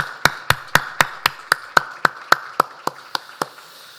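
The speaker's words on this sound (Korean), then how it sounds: "주님께 영광의 박수를 올려드리겠습니다" A church congregation at a Sunday worship service claps together in unison: about fourteen crisp, evenly spaced claps in a quick steady rhythm, each sharp and distinct, fading slightly toward the end.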